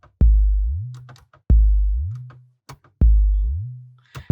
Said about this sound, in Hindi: अगर यहीं पर मैं स्लाइड लगा देता हूँ तो आप इसको सुन सकते हैं किस टाइप का साउंड देता है